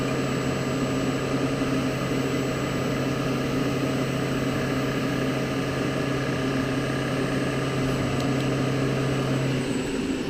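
A Proto Trak SMX three-axis CNC milling machine cutting a pass, giving a steady, loud, continuous mechanical hum and whine that holds unbroken throughout, close up, with no talk.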